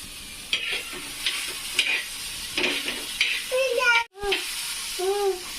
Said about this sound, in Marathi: तर याला असं व्यवस्थित भाजून घ्यायचं परत परत करून